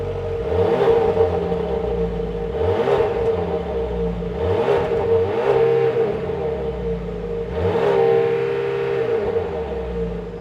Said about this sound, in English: let's fire up this 2-liter turbocharged 4-cylinder engine